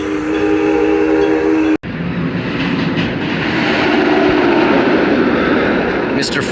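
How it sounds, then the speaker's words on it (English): A narrow-gauge park railroad train at Six Flags Over Texas rumbles steadily and close by, with a brief whistle-like tone at the start and a sharp break before the continuous rolling noise resumes. "The Six Flags and Texas Railroad is open"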